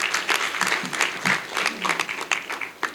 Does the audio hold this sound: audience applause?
yes